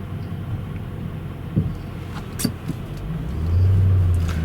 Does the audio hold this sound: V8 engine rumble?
yes